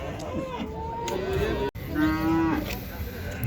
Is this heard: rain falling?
no